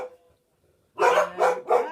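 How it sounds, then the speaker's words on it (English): Pet dogs bark indoors nearby, three loud sharp barks in quick succession after a short faint yip and a pause. "Excuse my dog's going nuts."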